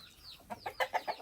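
Chickens kept in Fresno, California cluck in a quick run of about five short, fairly close calls, with quiet background between them.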